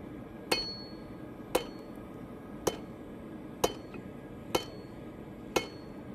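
Forging hammer blows ring out on hot metal against an anvil as the end is drawn out to a point, six sharp, bright strikes at a slow, steady pace about one per second, close and clear over a faint background hum.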